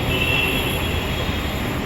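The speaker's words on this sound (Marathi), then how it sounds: "आता तीच ट्रेन फिरून अशी इकडे मागे येते आणि आपल्याला घेऊन जाते" A Pune metro train on its return run gives a steady broadband rumble with a high whine, loud and continuous throughout with no pauses.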